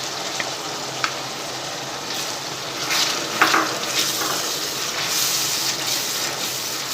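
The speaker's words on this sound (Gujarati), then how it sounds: "હવે આપણે આ ગ્રેવીને તેલ છૂટું પડે ત્યાં સુધી આપણે સંતળાવા દઈશું" Onion-tomato gravy for pav bhaji sautés in oil, a steady broad sizzle and crackle with a few soft stirring clinks, close and continuous with no talking.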